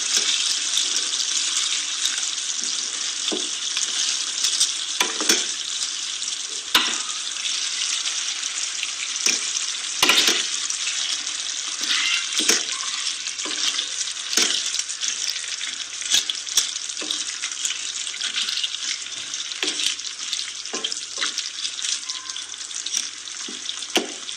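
Capsicum frying in a pan for a hotel-style vegetable dish, with a steady loud sizzle throughout and frequent scraping clatters of a spoon stirring against the pan.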